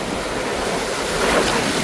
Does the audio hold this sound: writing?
no